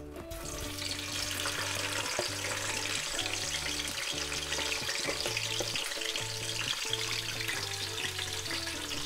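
Chopped onions frying in hot oil in a home kitchen while cooking palau, a steady close sizzle with repeated stirring scrapes throughout, no talking.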